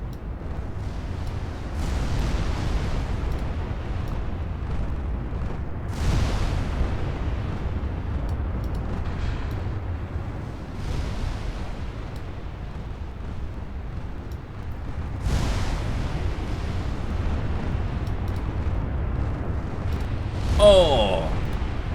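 Big naval guns boom in a Japanese dreadnought campaign of a warship video game, heavy 8-inch shells firing in several broad bursts spaced across a steady rumbling battle backdrop, with talk over the top.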